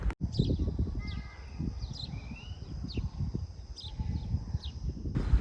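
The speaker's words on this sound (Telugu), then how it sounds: "మీరు విన్నట్లయితే అక్కడ బర్డ్ సౌండ్ కానీ చుట్టుపక్కలంతా గ్రీనరీ" Birds chirp in a green park in Oman, short high calls repeating every second or so above a low, rumbling outdoor background.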